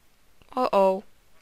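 A single sheep in a video game gives one short, nasal bleat in two quick pulses, clear and close against near silence.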